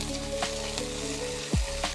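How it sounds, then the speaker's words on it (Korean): Garlic and eggs stir-fry in a hot pan with a steady, close sizzle and a few scraping stirs of a utensil, one heavier clunk of the pan near the end, no voices. "이때 마늘 반 숟가락 같이 넣어주고 볶아주고"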